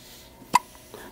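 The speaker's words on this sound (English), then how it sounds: "hiccuping like a crazy girl. Hiccup, hiccup." A baby's single sharp hiccup, short and close, followed by faint soft breathing noises in a quiet room.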